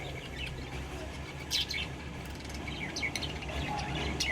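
Four pet birds chirp and tweet softly against a steady background hiss, with a few brief, faint calls scattered across the moment.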